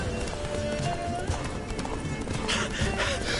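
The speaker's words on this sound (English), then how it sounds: "Run, Roach." Roach the horse galloping in The Witcher 3 video game, hooves thudding in a steady run beneath game music and ambient noise, with a brief voice over it.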